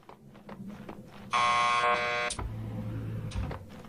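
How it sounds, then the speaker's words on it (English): A door buzzer in the video game Max Payne 2 sounds once, a loud, steady electronic buzz lasting about a second, with quieter footsteps and ambient noise before and after. "Just press the buzzer by the door."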